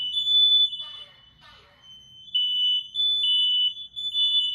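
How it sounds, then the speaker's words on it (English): A steady, high-pitched electronic fire alarm tone sounds continuously, briefly dipping while someone speaks, then resuming loud and unbroken. "the fire alarms went off"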